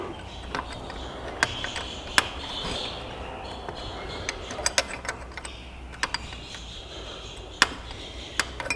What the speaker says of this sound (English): You could probably just come in with a wrench on the rearward one and break that one loose.